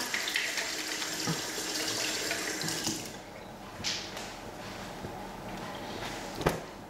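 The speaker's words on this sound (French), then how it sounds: "Je me lave les mains." Hands washed under a running kitchen tap: a steady stream of water splashes into the sink for about three seconds, then quiets to a lighter flow with occasional splashes and a brief knock, no voices present.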